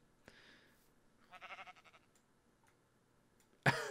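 Minecraft sheep gives a short, faint bleat midway through, surrounded by quiet ticks and soft game sounds, before a sudden loud burst at the end.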